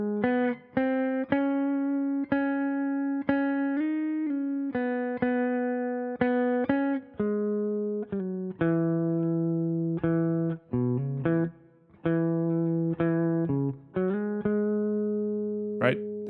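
Clean electric guitar slowly picking a riff, distinct single notes with a descending chromatic line, played alone at an unhurried, even pace.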